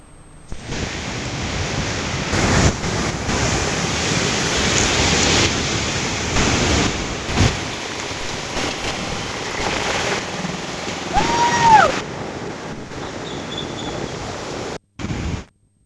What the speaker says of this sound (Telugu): కాకినాడ సముద్ర తీరంలో ఫెంగాన్ తుఫాన్ ప్రభావంతో రాకాసి అలలు విరుచుకుపడుతున్నాయి